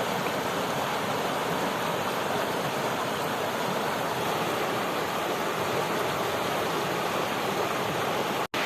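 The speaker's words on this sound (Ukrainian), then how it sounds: "Стрімким потоком тече річечка Лужанка" Steady, loud rush of the fast-flowing Luzhanka river and the Hurkalo waterfall in the Carpathian Mountains, a dense continuous roar with no voices, cutting off abruptly at the very end.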